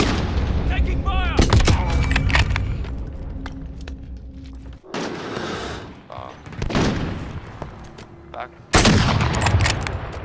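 Gunfire in Call of Duty: Modern Warfare, with loud bursts of shots and booming blasts spread across the clip amid continuous game-battle noise, and a player talking over the action.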